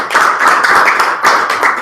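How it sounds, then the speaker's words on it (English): Steady audience applause at a Toastmasters meeting, many hands clapping together in a dense, loud, continuous patter close by. "Enjoy the applause."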